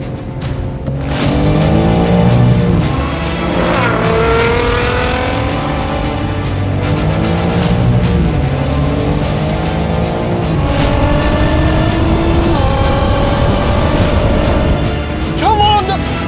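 BMW M4 xDrive, Audi RS5 and Nissan GTR in an all-wheel-drive roll race, engines roaring loud and close as they accelerate hard through rising gear changes, with a person shouting excitedly over the noise.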